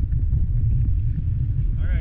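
Strong wind buffets the microphone while bodyboarding at The Wedge, a constant low, rumbling roar that stays loud for the full two seconds.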